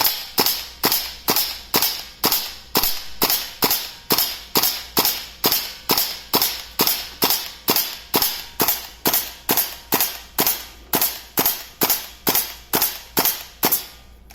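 An FN SCAR-H rifle, tested after repair, fires a long string of loud, close gunshots at an even, unhurried pace of roughly two per second, each sharp crack followed by a short decay, with no voices.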